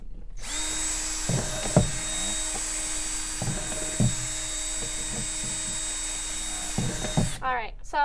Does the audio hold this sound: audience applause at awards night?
no